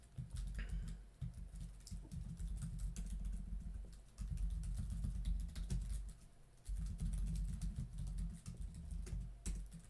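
Fast, steady typing on a computer keyboard, close and fairly quiet, with brief pauses between bursts of key clatter and no talking.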